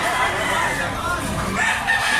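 Chickens cluck and a rooster crows amid a dense, noisy farmyard din.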